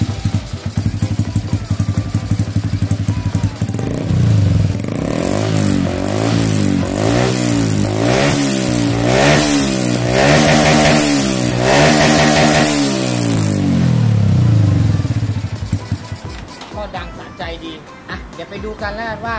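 A Honda Wave 110i motorcycle on its stock, not-yet-remapped ECU is revved repeatedly up and down from idle. The engine is loud and close, with rising and falling sweeps through the middle, then it settles back to idle.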